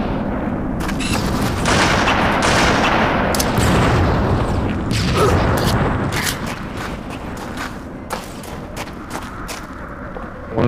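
Team sniper match in Halo 2 on the Burial Mounds map, with a dense rumbling wash of battle noise and scattered sharp gunshot cracks, loud and continuous, with no talking.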